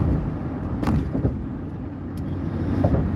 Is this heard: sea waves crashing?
no